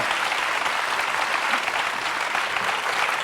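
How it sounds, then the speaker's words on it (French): A TV quiz show studio audience bursts into steady, dense applause, loud and close, with no speech over it for the whole stretch. "applaudir très fort"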